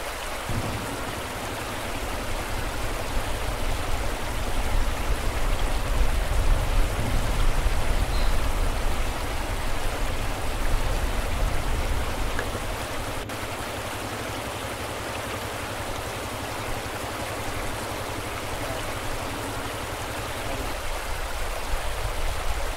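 The Solu river in the Solu region of Nepal flows beneath a bridge, a steady broad rushing roar of water that continues without a break, loud and close, with no voices.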